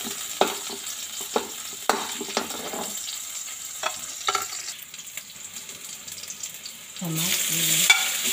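Garlic and onion frying in a pan, a soft sizzle punctuated by several sharp spatula clacks and stirring scrapes, with a louder burst of hissing near the end.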